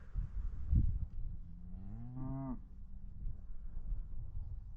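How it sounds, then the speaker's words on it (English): Calves on a farm during fence weaning give a single rising, drawn-out moo at mid-distance, set against quiet outdoor background noise. "There's the calves over there."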